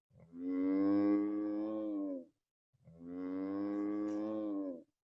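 A cow from a wandering herd roaming the streets of Welshtown lets out two long, drawn-out moos in a row, each lasting about two seconds with a short gap between, loud and close with nothing else around.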